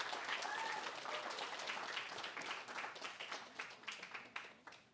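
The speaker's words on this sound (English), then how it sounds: "I want you guys to give them a round of applause for the support they provided you guys." Audience applause at a 2024 Arnot Health graduate medical education graduation ceremony, a dense, steady wash of many hands clapping that holds for the full stretch and thins slightly toward the end.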